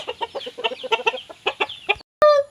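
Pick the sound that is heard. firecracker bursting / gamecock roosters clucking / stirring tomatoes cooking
gamecock roosters clucking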